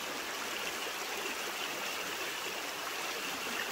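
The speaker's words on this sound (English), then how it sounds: "somebody forgot to turn the water faucet off, because this water is still running." Water pours steadily from a campsite faucet left running in the Ouachita Mountains, a constant broadband rushing stream with no pauses, fairly close and alone without any talking.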